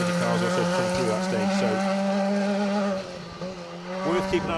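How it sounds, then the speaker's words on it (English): Ford Fiesta R2 rally car number 63 passing on a rally stage, a loud, close engine with rising and falling revs over the first three seconds, then quieter and receding before a brief surge near the end. "that was car 63, the Rally World sponsored Ford Fiesta R2 of Alex Cannon, Alan Carr"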